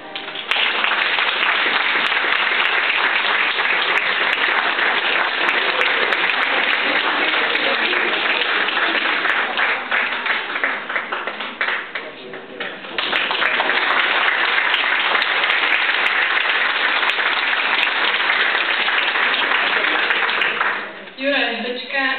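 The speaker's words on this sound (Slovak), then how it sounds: "Privítajte ho prosím potleskom." Sustained, loud audience applause fills a banquet hall as a guest actor is welcomed on stage, dipping briefly midway before swelling again, with a few voices mixed in near the end.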